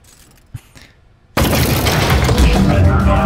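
Automatic turret gunfire in the Aperture Desk Job video game bursts in suddenly and stays loud and dense, a sustained rattling volley after a quiet opening with a faint clatter.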